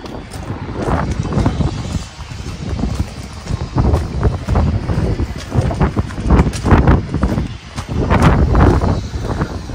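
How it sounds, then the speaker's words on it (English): Wind buffets a microphone outdoors at a new-construction home, a loud, gusty rumble with uneven bursts that lasts through the whole stretch. "Windy."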